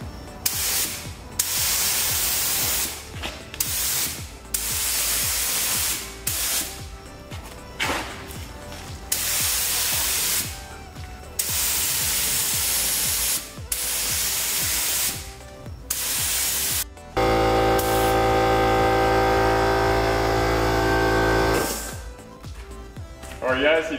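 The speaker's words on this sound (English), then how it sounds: "we're ready to spray it now" A spray gun applies mixed 4:1 clear coat to a repaired cracked car bumper in short hissing bursts separated by brief pauses. A longer steady hiss with a humming tone follows near the end.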